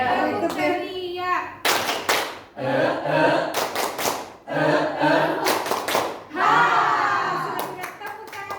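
Group of adults doing a rhythmic cheer clap at a school positive-culture session, sharp bursts of synchronized claps in short patterned sets separated by a leader's spoken prompts and chanted responses, close and loud.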